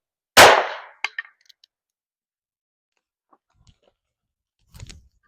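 A .22 revolver fires a single loud, sharp shot of Federal Punch personal defense ammo into one OSB board, followed by a few faint clicks and light handling knocks, then a soft thud near the end.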